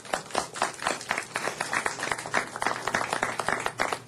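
Applause at a city council meeting greets a pop singer: a steady patter of many hands clapping fills the room at moderate distance, with faint voices underneath.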